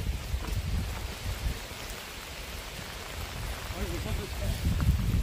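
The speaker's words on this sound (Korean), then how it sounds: "자, 비가 옵니다." Rain falls on a mountain summit at 711 m on Naeyeonsan's Samjibong peak, a steady close patter on surfaces with a faint voice underneath.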